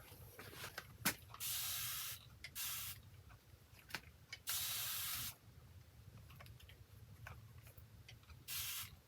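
Several bursts of spray paint hiss out of a can onto a canvas, short and longer blasts separated by quiet pauses, fairly close.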